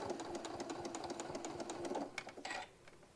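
A sewing machine runs steadily, top stitching a hobo bag with a fast mechanical whir and rapid needle clatter, close and fairly quiet, slowing and stopping near the end.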